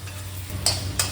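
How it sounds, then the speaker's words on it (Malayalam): Pork stock is poured into masala frying in a pan for a Kerala-style Easter pork fry, giving a quiet steady sizzle with two brief sharp scraping or splashing accents near the end. "ഇനി നമ്മൾ നേരത്തെ മാറ്റി വെച്ചിരുന്ന പോർക്കിൻ്റെ സ്റ്റോക്കാണ് അത് ഒഴിച്ചു കൊടുക്കാം"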